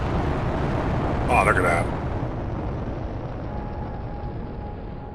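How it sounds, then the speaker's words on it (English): Animal rockets launch in The Planet Crafter, a steady roaring rumble of rocket thrust filling the whole clip with a brief brighter whoosh early on, while someone speaks briefly over it. "Let's launch those animal rockets."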